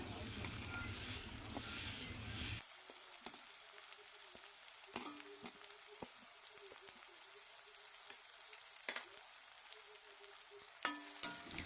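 Chopped onions fry in hot refined oil in a wok. A loud burst of sizzling settles into a softer, steady crackle, dotted with sharp pops and spatters.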